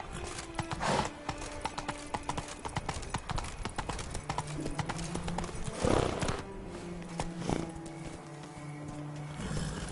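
Galloping horse hooves in The Witcher 3: Wild Hunt, a steady rapid clip-clop throughout, with a short whinny midway and low game ambience beneath.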